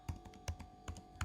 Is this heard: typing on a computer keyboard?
yes